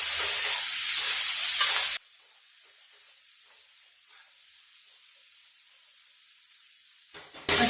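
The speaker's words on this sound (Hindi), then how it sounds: "हरी मटर, इसको डाल के चलाएंगे।" Green peas tossed into a hot frying pan for pav bhaji give a loud sizzling hiss for about two seconds, then a quiet stretch of faint stirring before the sizzle returns.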